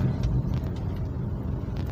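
Car pulling over to the roadside, a low, steady engine and road rumble close by with no talk.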